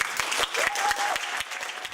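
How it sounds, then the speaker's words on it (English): A short burst of applause from a small theatre audience, scattered claps blending into a steady patter, with a faint voice briefly audible over it. "Round of applause, please."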